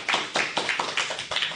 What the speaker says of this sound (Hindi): तो जोरदार तालियां हो जाए इस बात पर